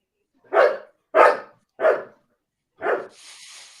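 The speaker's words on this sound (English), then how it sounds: "high-pitched dog. That sound right there." A high-pitched dog barks four times in a quick, fairly close series, each bark short and bright, followed by a brief hiss of noise.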